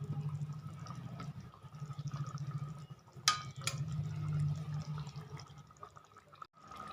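Mustard sauce with bhola fish and green chillies simmers quietly in a pan, giving soft, faint bubbling and trickling over a low background hum, with a couple of brief clinks partway through.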